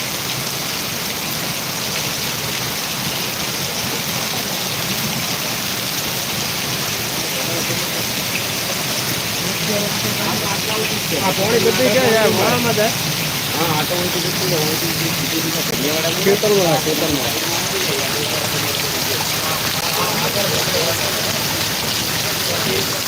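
Steady heavy rain hisses loudly throughout in the Panthawada area of Dantiwada taluka, with a person talking over it partway through.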